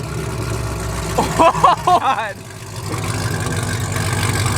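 A Chevrolet Camaro SS fitted with cheap aftermarket headers idles with a deep, loud rumble close by, with a short burst of sharp revs. Voices exclaim over the engine.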